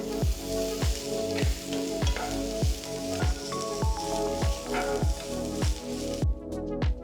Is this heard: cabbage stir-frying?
yes